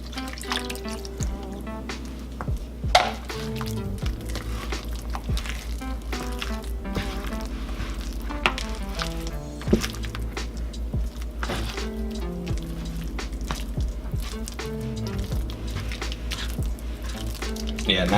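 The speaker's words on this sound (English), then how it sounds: "let's go ahead and add the rest of our milk in there" Milk is worked into Instant Pot mashed potatoes, giving a run of wet squishy mixing sounds and irregular clicks and scrapes against the pot, close and steady from start to finish.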